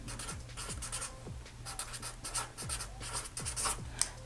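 Pen scratching out words on a sticky note, close up, with a run of quick strokes and short pauses between them and no talk.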